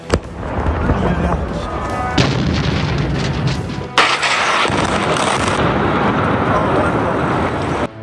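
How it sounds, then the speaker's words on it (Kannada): Missile strike blasting a large building in Azadi near Tehran: loud, dense rumbling explosion noise fills the whole stretch, with a sharp new blast hitting midway and sustained roaring debris and crackle after, no clear speech. "ಟೆಹರಾನ್ ಬಳಿಯ ಅಜಾದಿಯ ಬೃಹತ್ ಕಟ್ಟಡವನ್ನ ಸ್ಫೋಟಿಸಿದೆ"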